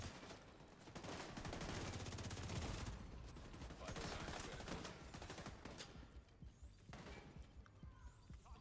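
Gunfire in the Division 2 shooter game comes from behind the player as sustained rapid bursts and fusillades, dense and fairly loud, then thinning into scattered shots near the end.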